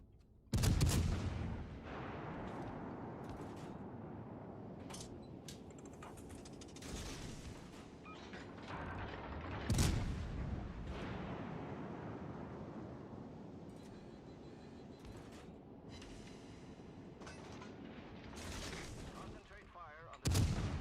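Naval artillery salvos from warships in World of Warships Legends, with loud booming shots around the start, middle and end over a continuous rumbling battle background and intermittent impacts.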